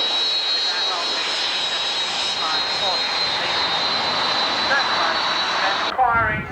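Large military aircraft circling at an airshow with undercarriage and flaps down, a loud steady jet roar holding throughout, with voices audible over it before the noise cuts off near the end.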